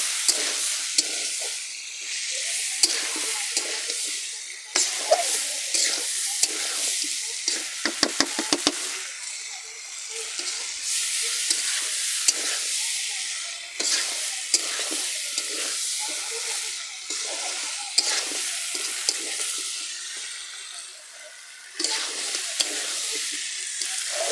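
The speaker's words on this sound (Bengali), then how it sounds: "নামানোর আগে ভালো করে কষে নেব" Broiler chicken curry stir-fried in a pan with spices, a steady close sizzle and hiss running throughout, broken by repeated scraping and knocking of the spatula stirring the pieces.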